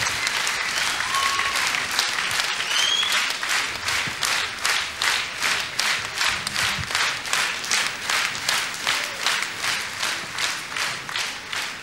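Audience applause at the Novaya Volna 2003 song contest closing ceremony, first a dense ovation that then settles into loud rhythmic clapping in unison.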